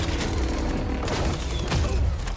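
Rocket launcher explosions and gunfire from the Battlefield 2042 specialists trailer, a dense, continuous barrage of booms and bursts with sharp blasts around one and two seconds, loud throughout.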